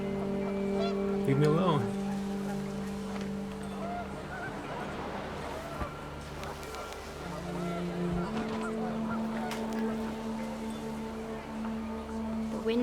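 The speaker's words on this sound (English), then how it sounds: "The wind picked up, and panicked geese appeared and quickly went." Panicked geese honk in the video game What Remains of Edith Finch, with a short burst of cries over windy ambience and game music while a voice speaks briefly.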